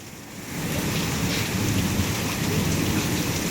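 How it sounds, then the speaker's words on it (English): Hail falling outdoors during a summer storm, a dense steady patter of ice pellets striking surfaces with a broad hiss and low rumble, continuous and fairly loud throughout, no voices. "That's definitely hail."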